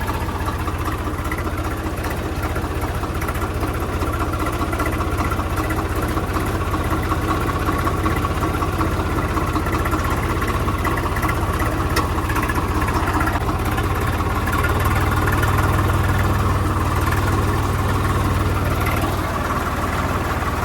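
A tractor engine runs steadily during puddling work in a wet field, a loud continuous drone held at constant revs, with a slightly deeper rumble near the end.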